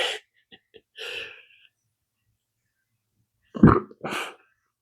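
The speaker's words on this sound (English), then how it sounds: "Excuse me, pepper burp." A close burp after eating a Warthog Yellow hot pepper, one deep gurgly belch between short breathy sounds.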